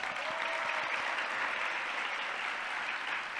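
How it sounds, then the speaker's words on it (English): Sustained applause from a crowd at a competition finals, steady and fairly loud throughout with no pauses. "Can we give them a round of applause?"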